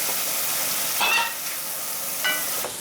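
Squid and prawns frying in a pan for fried rice, a steady bright sizzle with a couple of louder bursts as pieces are stirred, close and without talk.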